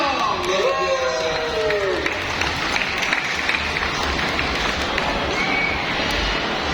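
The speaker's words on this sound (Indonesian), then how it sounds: "Tepuk tangan dong" Crowd applause and cheering at a Catholic Charismatic gathering, Limitless 2 in Makassar, a dense steady roar of clapping and voices lasting several seconds, with a few speech-like tones early on.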